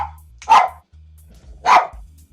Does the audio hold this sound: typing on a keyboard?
no